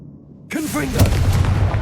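A Confringo fire spell blasting in Hogwarts Legacy, a sudden loud burst that erupts and rolls into a crackling, rumbling fiery roar with whooshing swirls, cast in quick succession.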